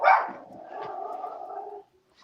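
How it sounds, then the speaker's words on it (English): A dog barks and yelps excitedly once up close, then a drawn-out whine or howl carries on for over a second before fading out; no talking over it. "it was his dog that was going crazy"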